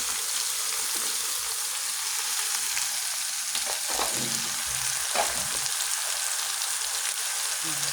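Bitter gourd (ampalaya) hits a hot pan of sautéed tomatoes and fries with a steady, loud, close sizzle that continues throughout, with only small stirring sounds breaking through.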